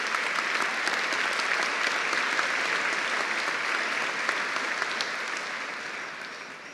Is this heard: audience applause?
yes